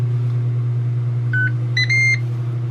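Two or three short electronic beeps from the control panel of a Ninja Foodi XL Grill, sounding over a steady low appliance hum with no talking.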